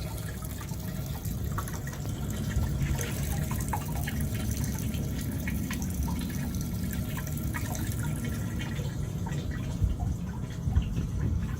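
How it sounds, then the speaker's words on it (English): Water running steadily from a DIY bucket sink into a drain, a continuous close splashing stream with occasional drips, alone with no talking. "So I just cut a corner off of it and fit everything up in there. And then boom, runs on down. And you got yourself a sink, Jack."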